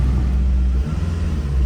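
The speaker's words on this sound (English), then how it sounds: "As you guys can see, stock exhaust still has a little nice rumble." Acura RSX Type-S engine on its stock exhaust, revving briefly up close with a low, steady rumble that dips and swells about halfway through, with no talking over it.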